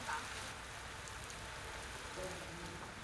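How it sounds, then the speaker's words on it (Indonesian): Heavy rain driven by strong wind batters an outdoor wedding reception tent in Sampang, a constant broad rushing hiss at moderate level that holds unbroken from start to end. "terjangan angin kencang disertai hujan deras"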